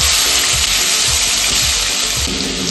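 Ground chili and garlic paste hits hot oil in a pan for prawn malaikari, producing a loud, close, continuous sizzle with soft rhythmic stirring underneath.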